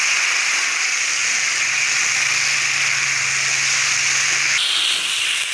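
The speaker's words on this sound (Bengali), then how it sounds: "এই যে কড়াইয়ে দিয়ে দিয়েছে মশলাটা, দিয়ে আলু কলাটাকে কষিয়ে নিচ্ছে" Ground spice paste sizzling with potato and plantain in a wok for a vegetarian curry, a steady hiss of frying that stays loud and even throughout.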